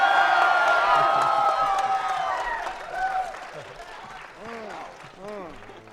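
Audience at a Sonic the Hedgehog gaming panel on a convention stage cheers and claps loudly, a dense crowd roar with whoops that fades over several seconds while voices rise above it.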